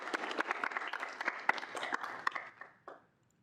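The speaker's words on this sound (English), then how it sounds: "If we can get a round of applause" A student senate meeting room fills with brief applause from a small group, moderately distant clapping that fades away within about three seconds.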